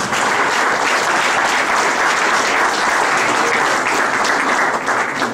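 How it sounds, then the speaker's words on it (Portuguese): A church congregation applauds continuously and loudly throughout, a dense, even wash of many hands clapping with no voices standing out. "Vamos aplaudir o Senhor?"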